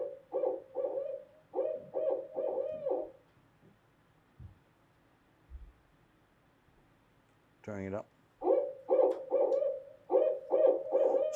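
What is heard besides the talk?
barred owl hooting across a lake at night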